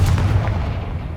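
A Confringo blasting spell goes off in Hogwarts Legacy as a single deep, booming explosion that decays over about a second, loud and alone.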